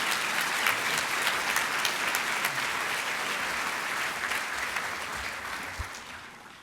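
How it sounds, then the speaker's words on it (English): Sustained audience applause fills a commencement ceremony hall for a winter graduation at Missouri Western State University, a dense, steady roar of many hands clapping at even strength before tapering slightly toward the end. "Please join me and give them a warm round of applause."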